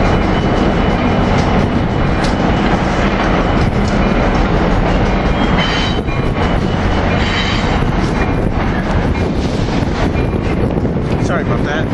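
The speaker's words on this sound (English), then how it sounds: "train coming in right now from Atlantic City" Amtrak passenger train led by engine 4216 with cab car 6013 trailing, arriving from Atlantic City into 30th Street station in Philadelphia; a continuous loud rumble and rolling roar of wheels and engine, close by, with wind buffeting the microphone throughout.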